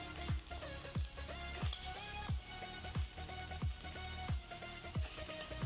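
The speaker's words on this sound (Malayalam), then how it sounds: "നമുക്ക് ഇതിലേക്ക് എടുത്ത് വെച്ചിട്ടുള്ള റൈസ് കുറച്ചിട്ട് കൊടുക്കാം" Rice tipped into a pan of fried vegetables sizzles steadily, with repeated scraping stirs cutting through at roughly half-second intervals, close and moderately loud, no talking.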